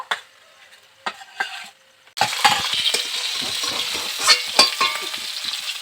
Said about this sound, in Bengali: বাকি মাছগুলোকেও ভেজে নেব।